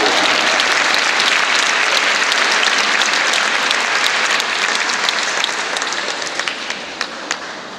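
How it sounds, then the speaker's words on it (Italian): Sustained applause from a large concert audience, dense and loud at first, then thinning into scattered individual claps as it fades out. "Un grandissimo applauso."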